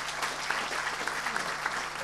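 Audience applause at a French public gathering, a dense steady patter of many hands clapping for about two seconds, moderately loud and without voices on top.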